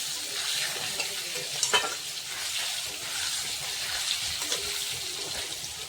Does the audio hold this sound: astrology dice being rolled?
no